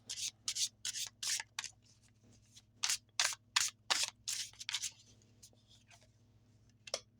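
Tarot cards being shuffled and handled, a rapid series of crisp papery rubbing and flicking bursts in an uneven rhythm, close and fairly quiet over a low steady hum, then a few final isolated flicks.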